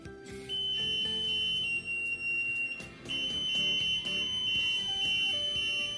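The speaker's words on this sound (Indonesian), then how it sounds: "ini adalah suara belnya." Electric bell powered by energy from a piezoelectric plate, ringing with a steady, loud high-pitched electronic tone that continues almost unbroken, with one brief dip midway.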